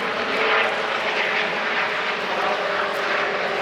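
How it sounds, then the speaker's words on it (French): Steady, broad roar of airplanes passing overhead in Sweden, loud and continuous with no voices. "Apparemment des avions et des hélicos."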